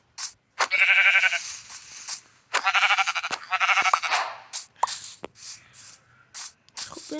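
Sheep in a video game bleat in repeated loud, wavering cries, several in quick succession and close up, with small clicks and scrapes between them.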